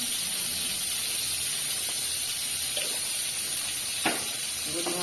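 Ground spices tipped into onions frying in oil in a Bangladeshi village kitchen make a continuous sizzle and hiss, broken by a few light scrapes and clicks of stirring, close and fairly even.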